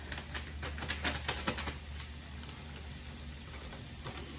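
Shrimp cooking on a hibachi grill gives off a crackling sizzle, busiest in the first two seconds and then settling to a softer, steady frying hiss with no talking.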